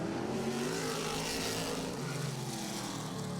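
A NASCAR Whelen Modified race car on a qualifying lap gives off a steady, unbroken engine roar that holds at an even level throughout, with no talk.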